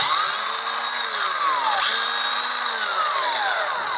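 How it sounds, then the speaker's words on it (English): A Lidl Parkside X20V cordless angle grinder (PWSA 20-Li B2) runs steadily after a motor brush repair, giving a loud, continuous high-pitched whine with no talk over it. "I now have an operational angle grinder again."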